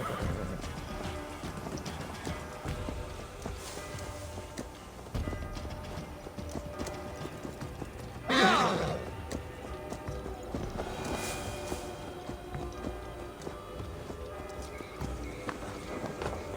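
Horse in Assassin's Creed Valhalla with rapid clip-clop hooves beneath game music and ambience, and one loud whinny partway through.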